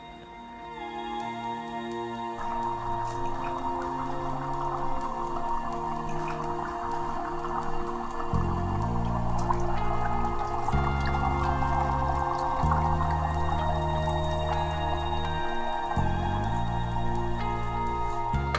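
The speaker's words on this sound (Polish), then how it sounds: "Na koniec cały lód, który nam został, postanowiliśmy wsypać do miski i zalać wodą." Dry ice covered with water in a bowl churns steadily, a continuous bubbling, gurgling wash with dripping and hissing that stays fairly loud throughout, with no voices.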